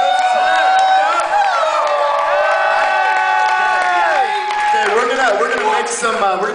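A live show crowd cheering, whooping and shouting loudly and continuously, with excited voices rising over one another throughout and some applause beneath.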